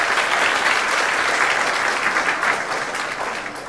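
Dense, sustained applause from a large audience at a formal government awards ceremony honoring civil servants, many hands clapping at once in a steady wash that tapers slightly toward the end, with no voices over it.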